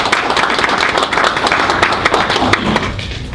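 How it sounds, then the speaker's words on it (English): Audience applause fills a board of education meeting room, a dense, steady burst of many hands clapping at close range that holds loud and even for several seconds without letting up. "So let's give Mr. Crumbly a round of applause."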